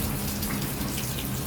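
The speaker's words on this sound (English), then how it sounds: "It's a rainy morning here in Tucson" Steady rain falling on a rainy morning walk in Tucson, a continuous dense wash of patter close around the listener, loud and unbroken, with no voices.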